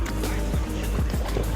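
Kayak paddling at a beach, with soft rhythmic paddle strokes and low watery swishes and gurgles over a constant wind-like rumble, close and moderately loud.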